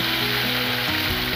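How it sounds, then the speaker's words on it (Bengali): Ginger and cumin paste crackles in hot oil in a pan, making a loud, dense, unbroken frying sizzle with a light stirring texture throughout. "দা জিরে বাটাটা ভালো করে ভেজে নিয়ে লঙ্কা বাটাটা দিয়ে দিচ্ছি।"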